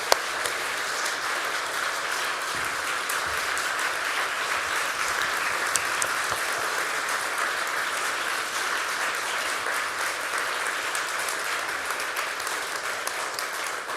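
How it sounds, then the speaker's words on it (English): Steady, dense applause from a large audience, sustained at an even level throughout with no voices rising above it. "I think we should give Berit a big applause."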